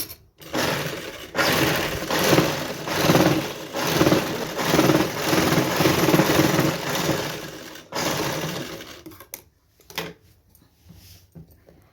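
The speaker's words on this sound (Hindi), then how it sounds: "बाद हम एक सिलाई इसमें इस तरह से चलाएंगे" A sewing machine stitching a backless halter blouse runs in several close, steady whirring bursts with a fast needle rhythm. Brief pauses break the stitching, and it stops near the end.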